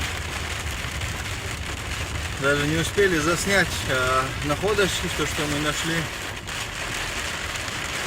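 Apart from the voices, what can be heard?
heavy rain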